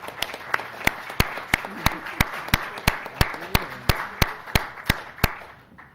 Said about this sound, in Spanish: Así que por favor le pido un aplauso.